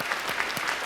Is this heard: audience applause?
yes